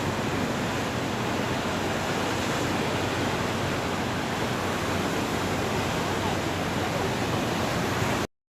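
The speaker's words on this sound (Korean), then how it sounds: "시원한 파도 소리 들어보세요" Ocean waves at Songdo beach in Busan wash in as a steady, loud, broadband surf roar that holds evenly without breaks, with no talk over it.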